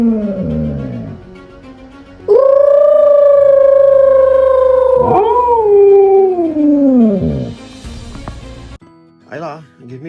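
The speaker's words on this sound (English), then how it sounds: "Today's style, howling." A Siberian husky named Ayla howls loud and close in long rising and falling notes, with a short whimpering yip before and after the main drawn-out howl.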